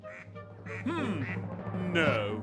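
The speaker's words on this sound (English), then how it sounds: "What will the ducks reveal?" Cartoonish duck quacks from a murder mystery video game sound in a short series of nasal honks, fairly close and clear over a low background drone, with a brief spoken word in between.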